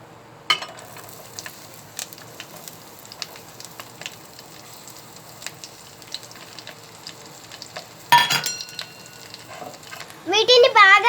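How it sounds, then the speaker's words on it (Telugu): Onion, green chili and carrot fry in a pan for aloo biryani, giving a faint, steady sizzle with a couple of louder clatters of stirring, then a voice speaking near the end. "వీటిని బాగా ఎర్రగా వేగనివ్వాలి ఫ్రెండ్స్"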